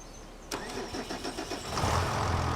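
A white video-game tractor with a 225 horsepower engine cranks and catches, a sharp start followed by a rough, rumbling idle that swells louder near the end.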